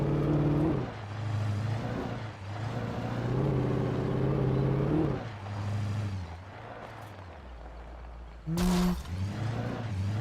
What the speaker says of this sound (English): these vehicles oversteer so hard